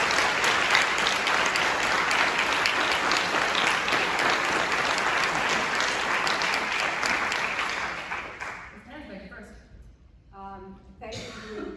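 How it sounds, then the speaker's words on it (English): A town audience at a mayoral candidate forum in Glen Cove, New York claps loudly and steadily for several seconds, then the applause thins and fades as a voice begins speaking near the end. "please offer applause to both candidates for their willingness to answer your questions tonight together on the same stage"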